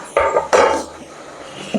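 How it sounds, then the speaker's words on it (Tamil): Knife striking a cutting board while mushrooms are chopped for mushroom biryani in a home kitchen, two sharp knocks close together, then a quiet pause and a softer final tap. "காளான் நறுக்கிடலாம்."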